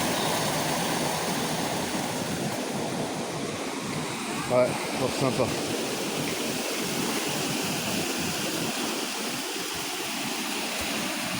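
Rushing water of a small river flows steadily with some wind, while a person speaks briefly over it partway through.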